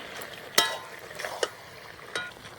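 Ground spice paste and chopped capsicum sautéing in a pan for a desi chicken curry, a low sizzle broken by a few sharp spatula scrapes and knocks, close and without talk.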